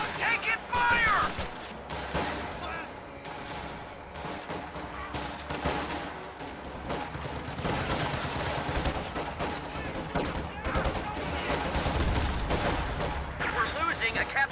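Sustained gunfire and scattered shots in a video game battle, a dense mix of rifle and machine-gun fire with explosions throughout, and voices calling out over the din.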